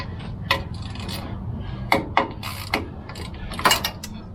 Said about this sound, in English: I'm going to go ahead and break these 2 bolts back behind it.